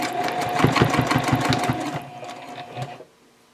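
A sewing machine backstitches a fabric project bag in a quick burst of rapid, rhythmic stitching, loud and close for about two seconds, then slows with a last few stitches and stops.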